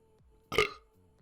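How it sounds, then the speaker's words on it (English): A single short burp erupts at close range between stretches of quiet background tones, with no talking over it. "I got a burp"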